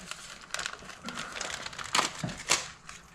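Plastic packaging of a STIHL BR600 backpack blower valve adjustment kit, holding an O-ring, feeler gauge and gasket, being torn open: close, irregular crinkling and crackling bursts with a couple of sharper rips.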